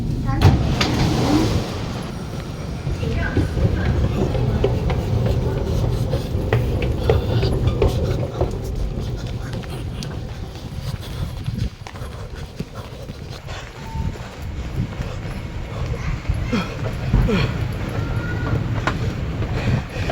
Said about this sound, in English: Oh, that's the harbourfront train